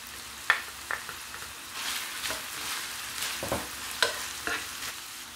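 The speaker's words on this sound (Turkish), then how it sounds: "Şimdi kıyma ve yağı biraz kavuracağım." Minced meat and onions sizzle quietly in a pot while a utensil stirs and scrapes. There are a few sharper clinks against the metal.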